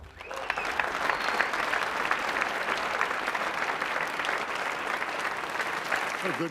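A large crowd at a live Call of Duty: Advanced Warfare multiplayer reveal event applauds and cheers. The dense, continuous clapping fills the whole stretch at moderate loudness.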